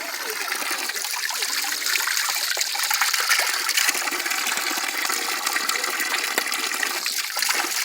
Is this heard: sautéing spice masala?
no